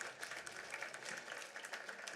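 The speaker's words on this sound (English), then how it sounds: "could we please give a big round of applause to honor the pioneers of Women's" Round of audience applause at a world summit session honoring women's federation pioneers, a steady wash of many hands clapping at moderate distance, fairly faint throughout.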